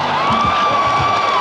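A huge homecoming crowd at a 1986 Penn football game cheers in a steady, dense roar, with a sustained whistle or shout riding above the mass of voices for the whole short burst.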